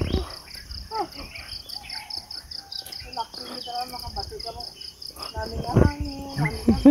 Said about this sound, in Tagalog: Ang ganda ng tinig ng mga ibon.